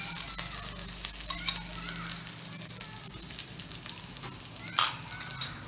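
Garlic sizzles in hot oil in a pan, a close and fairly quiet crackle with small pops and a brief clatter of stirring, while a voice talks faintly.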